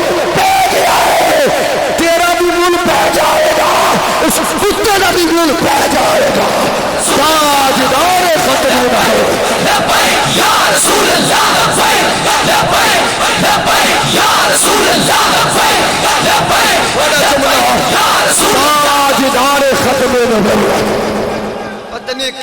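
At an annual religious gathering, a large crowd roars a slogan back in unison after a speaker's call, loud massed shouting repeating in waves over an amplified voice for over twenty seconds.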